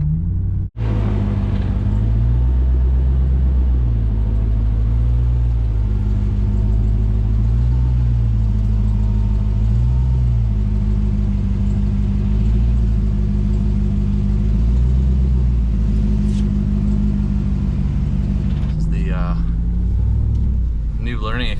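Jeep Gladiator trucks drive off-road with a continuous, loud, low engine rumble that rises and falls in a slow rhythm for over twenty seconds, with voices talking over it.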